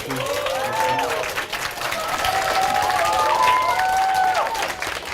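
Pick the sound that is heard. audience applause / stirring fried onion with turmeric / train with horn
audience applause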